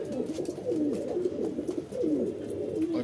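Pigeons coo steadily at close range, low rolling calls overlapping one another in a continuous murmur, including a pigeon just back after a month missing.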